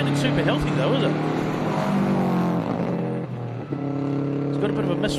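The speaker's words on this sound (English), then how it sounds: "It's got a bit of a misfire. It's not quite revving as cleanly as you'd like to hear it." Rally car engine at a New Zealand gravel rally stage, misfiring and not revving cleanly, a rough wavering engine note that rises and dips, with a commentator talking over it throughout.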